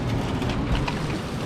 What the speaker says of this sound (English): It's actually hailing out there as well. Thundering, lightning, windy, and rain.